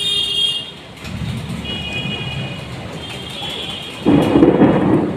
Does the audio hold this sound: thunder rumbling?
yes